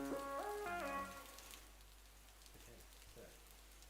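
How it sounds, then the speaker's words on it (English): A recorded rain shower from a storm gives a steady, soft hiss of falling rain, opened by a brief sustained tonal sound that fades out within the first second or so. "a bit of a storm happened, and we captured some of the rain, so here it is"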